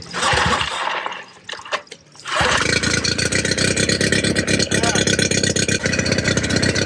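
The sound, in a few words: boat motor running to flush out salt water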